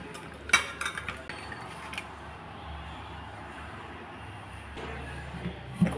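Large prawns being mixed with salt and turmeric powder in a bowl: soft, moist squelching and rubbing, with a few sharp clinks of the bowl near the start and end, close and fairly quiet.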